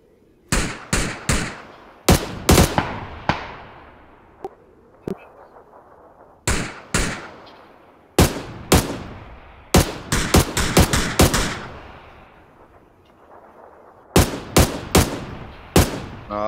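Automatic rifle fire in PLAYERUNKNOWN'S BATTLEGROUNDS: loud, sharp bursts of rapid shots, repeated in clusters with short gaps between them, the echoes trailing off after each volley.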